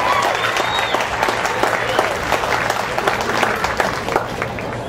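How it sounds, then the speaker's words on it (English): Audience at the Eight Flags Miss Shrimp Festival 2011 Scholarship Pageant applauding the contestants, a steady wash of many hands clapping, loud and sustained throughout. "please give a round of applause for your contestants"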